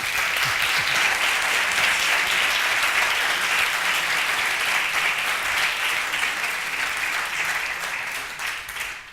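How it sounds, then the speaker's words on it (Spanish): Warm, sustained applause from a round-table audience at the FIMART 2015 gastronomy event for Íñigo and his Michelin-star team, a dense full-room clapping that holds steady and tapers slightly at the end. "un caluroso aplauso para ellos, otra vez"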